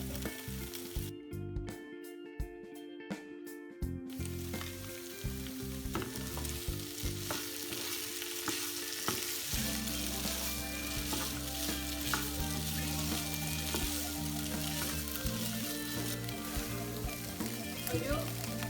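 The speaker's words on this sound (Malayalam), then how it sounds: "ഇനി നമ്മൾ വറുത്ത് വെച്ചിരിക്കുന്ന കോളിഫ്ലവർ ഇതിലേക്ക് ചേർത്ത് കൊടുക്കാം." Fried cauliflower tossed in a soy sauce mixture for chilli gobi sizzles steadily in the pan with stirring, beneath background music that runs throughout.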